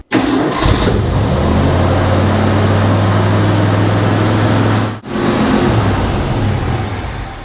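A vehicle engine, just repaired after an overheating wire fault, cranks and catches at once, then runs at a loud, steady idle nearby, cuts out sharply for a moment and quickly resumes.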